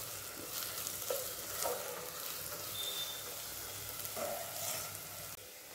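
Onions frying on full flame in a pan for chicken biryani, a soft continuous sizzle with faint stirring scrapes, quiet and steady with no talking.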